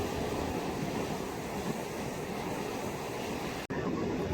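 Sea waves wash continuously onto Madban beach on the Konkan coast, a steady surf roar with wind buffeting the microphone and a brief dropout near the end.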